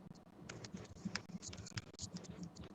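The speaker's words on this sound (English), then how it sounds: "I hear you typing." Soft, quick clicking keystrokes on a computer keyboard tap out an irregular typing rhythm, quiet and close with no talking over it.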